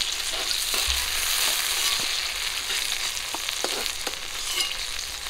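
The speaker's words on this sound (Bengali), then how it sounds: "একটু লাল করে ভেজে নিয়েছি, তুলে নেব" Brinjal pieces fry in hot oil in a pan, a continuous bright sizzle with occasional sharp clicks and scrapes of a spatula as they are turned.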